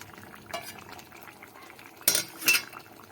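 A spoon scrapes and clinks against a pot as garam masala powder is stirred into lentil dhoka curry. Two quick metallic strokes sound close over a low, soft background.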